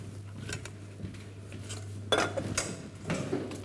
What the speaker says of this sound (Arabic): شوفوا كيفاش راح ندخل البياض البيض